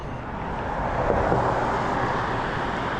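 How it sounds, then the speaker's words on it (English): A car backing up slowly with its tyres rolling over rocks, a steady broad rumble with a gentle swell in the middle, heard alone at a moderate distance. "I heard them back up because they were rolling over rocks"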